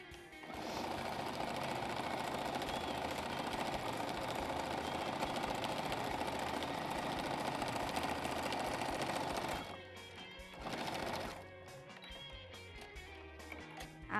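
Domestic sewing machine stitching fabric, a fast steady mechanical chatter that runs continuously for about ten seconds, then stops, gives a short second burst, and falls quiet.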